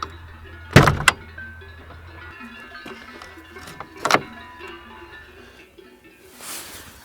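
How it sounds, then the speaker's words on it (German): On a Mercedes 300 TE 4matic (S124) estate with the inline six-cylinder M103 engine, the bonnet is opened: a couple of sharp metallic latch clunks early on, another clunk a few seconds later, then quiet rustling nearby. "Schauen wir uns doch mal den Motor an."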